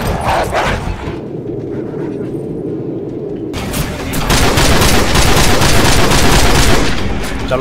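Gunfire and explosions in the Call of Duty 4: Modern Warfare video game, a dense loud fusillade of shots that drops to a rumble midway and then surges back into heavy continuous fire.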